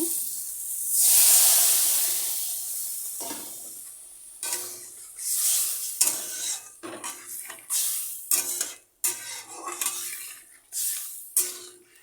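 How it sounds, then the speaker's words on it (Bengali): Water poured into a pan of sautéed spices and potatoes for a koi fish curry, bursting into a loud hissing rush of steam, then settling into bubbling and stirring clatter in gaps. "নুয়ে সাতলানো হয়ে গেছে এখন জলটা দিয়ে দিচ্ছি"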